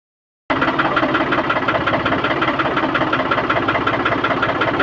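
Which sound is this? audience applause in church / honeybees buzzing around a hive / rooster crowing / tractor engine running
tractor engine running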